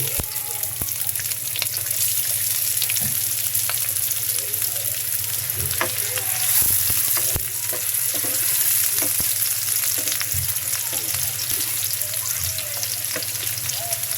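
Onions fry in a hot pan with a continuous, crackling sizzle, close and steady, broken now and then by light clicks and scrapes of stirring.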